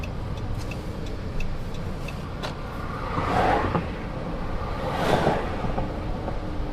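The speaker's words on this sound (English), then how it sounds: "A lot of cars in here." Cars on the Tamiami Trail, US Highway 41, near a roadside airboat tour stop with restaurant and gift shop: steady traffic rumble with two vehicles swelling past at moderate distance, alongside faint scattered clicks.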